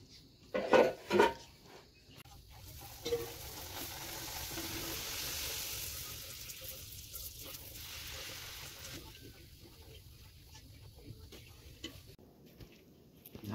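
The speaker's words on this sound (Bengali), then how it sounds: "আর এদিকে লুচি ভাজা চলছে এখনো।" Luchi, puffed Bengali flatbread, frying in hot oil give a steady, moderate sizzle, with a couple of sharp clatters of pans or utensils near the start.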